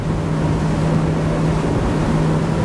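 A Saxdor 320 GTO motorboat runs hard under power, a steady loud engine drone mixed with rushing water and wind noise, continuous with no voices.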